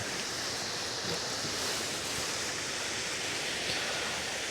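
Continuous rushing roar of water pouring down into a lake, steady and broadband with no voices.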